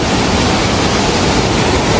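A small mountain waterfall on a Langtang trail pours in a loud, dense, unbroken hiss of falling water, close to the microphone and steady throughout.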